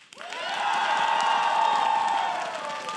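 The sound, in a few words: crowd applause and cheering at a League of Legends esports show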